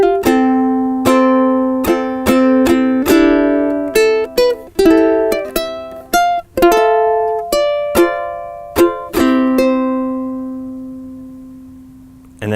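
A ukulele plays a chord melody of a song, with clear plucked notes and chords in a moderate rhythm, each ringing briefly before the last one sustains and fades, heard alone.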